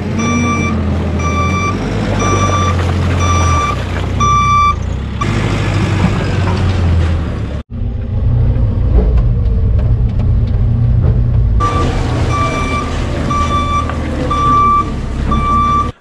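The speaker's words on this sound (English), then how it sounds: "I'm now going to use the JCB, which I've just brought up here, and we're going to tow the trailer to the yard" A JCB tows a trailer toward a yard, its reversing alarm beeping loud and steady over a heavy diesel rumble that briefly drops to a deeper engine drone before the beeps return.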